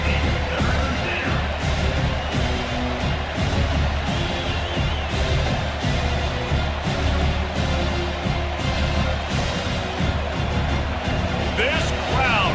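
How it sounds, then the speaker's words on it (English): Loud, roaring crowd at a college football stadium during a Kansas State at Penn State playoff game, sustained full-throated cheering with whoops, broadcast commentary running over the top. "This crowd, full throat, spreading the eardrums and letting them know it's going to be a long day"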